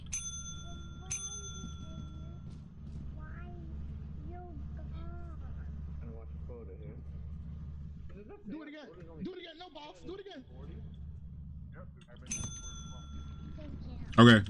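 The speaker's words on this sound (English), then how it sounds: "I'm gonna ring the bell." Bright metallic bell in the video game Lethal Company, rung to sell items, strikes twice near the start and twice again near the end, with voices talking steadily underneath.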